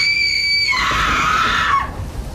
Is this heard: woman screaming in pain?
yes